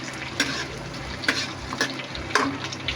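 Ginger dropped into hot oil in a pan for sautéed cabbage, a continuous close sizzle with a few sharp clatters of stirring spaced through it, no voices.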